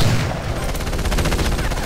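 Rapid automatic gunfire in the video game Battlefield Heroes, a steady rattling burst close and loud for about two seconds with no talking.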